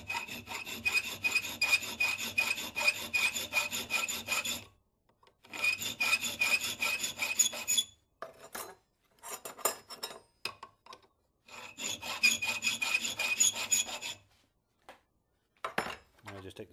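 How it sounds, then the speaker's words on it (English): A hand file cuts a groove in a metal trap in three long bursts of rhythmic rasping strokes, close and clear, separated by pauses with a few scraping touches. "I'm going to file it down about half that distance for this groove."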